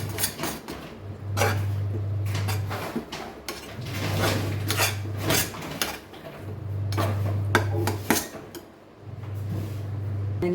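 Blended vegetables for pav bhaji get mixed in a pan, a spatula clanking and scraping against the metal in rapid repeated strokes under a low intermittent hum, with no voices.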